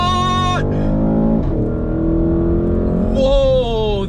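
A 2021 Porsche Cayenne GTS launches hard from a standstill in boost mode toward 100, with a loud engine roar climbing steadily in pitch through the gears and a brief dip at a shift change. No one speaks.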